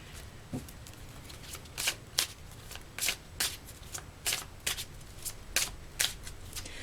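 Tarot cards are shuffled by hand in a steady run of crisp, brief riffles and slaps, repeating roughly every half second, close and fairly quiet with no voice over them.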